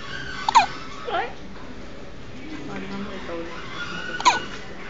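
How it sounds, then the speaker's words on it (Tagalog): A baby hiccups a few times, small sharp catches spaced apart, quiet and close against a soft room background. "Sinok."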